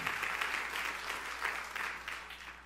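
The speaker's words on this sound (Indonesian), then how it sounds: "Tepuk tangan yang meriah." Steady applause from a group, a dense patter of clapping holding at an even level throughout, somewhat distant and soft.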